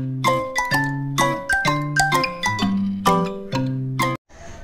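A bright bell-like chime melody rings out in repeated ding-dong notes at a steady rhythm, clear and close, ending with a short hiss.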